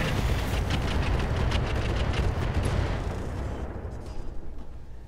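Mech weapons firing in the Roguetech BattleTech mod unleash a loud, dense barrage of booming shots and explosions that rumbles continuously and fades slightly toward the end.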